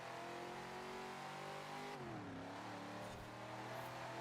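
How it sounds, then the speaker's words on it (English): A track car's engine revs hard while climbing a hill in second gear, a loud, continuous, close motor drone whose pitch rises steadily and then dips briefly before climbing again. "Getting the full potential out of the engine."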